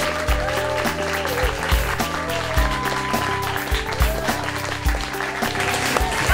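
A sitcom-style studio audience breaks into sustained applause, a dense clapping wash that carries steadily under bright musical tones playing at the same time.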